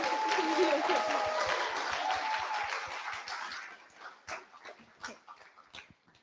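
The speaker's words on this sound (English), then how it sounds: "Please join me in another round of applause for Izzy" An audience at a university year-end celebration applauds, the clapping dense and steady at first, then thinning into a few scattered, separate claps as it dies away.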